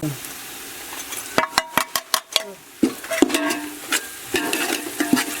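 Onions and chili powder being stirred in hot oil in a pan for egg biryani on a balcony, with sharp clinks of a spoon against the pan over a steady sizzle.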